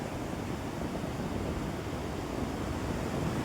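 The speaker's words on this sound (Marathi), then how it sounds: "बघू शकता पाण्याचे लाटा" Ocean waves washing onto an uncrowded beach on a Sunday outing, a continuous broad rushing roar that stays steady and fairly close, with a breezy hiss mixed in and no talking.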